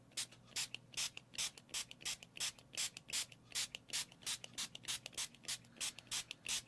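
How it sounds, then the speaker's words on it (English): A spray bottle mister spritzes water onto a mixed-media painting in a quick, regular series of soft hissing puffs, each short and close, with quiet pauses between. "I'm just going to add a mister and just spritz a bit more."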